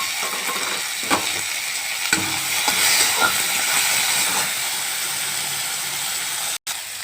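Green chillies and tomato sizzling in a pan for a cabbage and potato curry, a steady close frying hiss with scraping and clinking as the spoon stirs, no talking.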